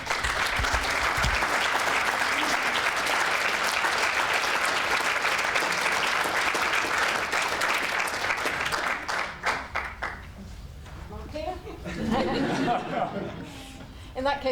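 Sustained applause from an audience at a student union awards ceremony, loud and dense for about nine seconds, then thinning into scattered claps with murmuring and a few laughs.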